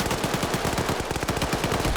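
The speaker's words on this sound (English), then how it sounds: "he definitely hears the gunshots right on the other side" Rapid bursts of gunfire in the Friday Night Titans combat game, fast loud repeated shots packed together like a machine gun across two seconds, with no talking.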